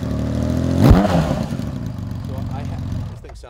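A 1981 Honda CBX1100 motorcycle fitted with a Kirker exhaust rumbles close by, with one sharp rev swelling and falling early before settling back to a steady idle.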